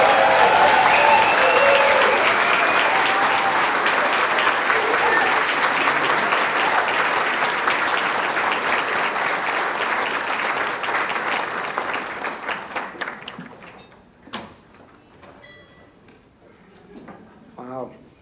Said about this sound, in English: please join me in offering a resounding, grateful round of applause for Dana Eliason